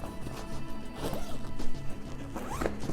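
A zipper is drawn open on the carrying bag of a Neewer NL 660 LED budget lighting kit, giving a steady close rasping run with a few knocks and handling bumps along the way.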